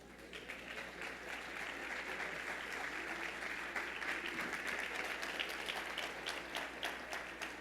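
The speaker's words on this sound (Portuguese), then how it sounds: "aplauda o Senhor aí, irmãos" Steady, moderately distant applause from a church congregation at a Saturday service, an even wash of many hands clapping, fairly faint with a low hum underneath.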